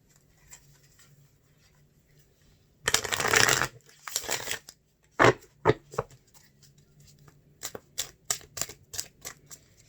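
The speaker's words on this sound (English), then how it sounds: "Give this a quick shuffle" Cards are shuffled in a loud riffling burst, then a run of sharp snaps and taps as the deck is handled and squared, with quiet gaps between.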